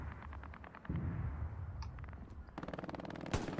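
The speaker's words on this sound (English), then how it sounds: "Popel's got his MG down there just flanking that whole open area with tons of machine gun fire" Machine gun fire in the video game Hell Let Loose, an MG raking a wide open area: sharp bursts of rapid rattling shots, some distant, others nearer and louder, with a heavy rumbling blast partway through.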